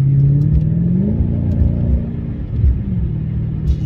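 A car engine hums and rumbles steadily from inside the vehicle, pitch shifting slightly as it runs, with no talking.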